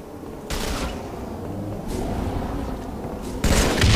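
Gunshots and grenade blasts in a first-person shooter video game, heard as a few loud broadband bursts separated by pauses over a steady rumble of continuing battle noise.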